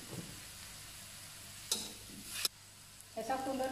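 Tofu and vegetables stir-fried in tom yum sauce over medium heat, a low sizzle broken by a few sharp scrapes of a spatula against the pan and a brief louder burst near the end.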